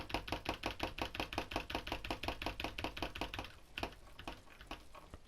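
Rapid, even clicking of a computer keyboard and mouse during fast editing, a dense run of close taps that thins out into sparser clicks toward the end, quiet and alone.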